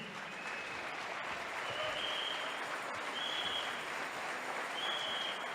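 A church congregation at a Spanish-language worship service breaks into steady, dense applause that fills the room without pause, with no speech over it.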